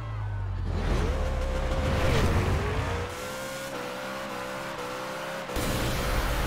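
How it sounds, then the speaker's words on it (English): Dom's Charger roaring under a nitrous boost in a Fast and Furious racing game, a loud rising engine surge that climbs then holds at a steady high whine, with no talk over it. "I want to see what this nitrous is"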